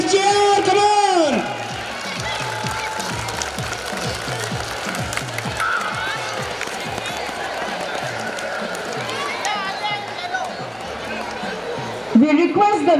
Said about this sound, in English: Audience, please cheer.